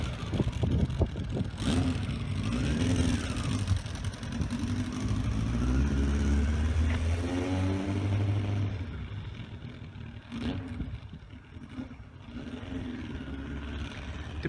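A car drives past during a brake test, its mid-range engine rising and revving for several seconds, then easing off and fading, with a second quieter pass later and no speech.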